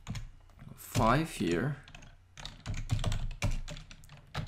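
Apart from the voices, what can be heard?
typing code on a computer keyboard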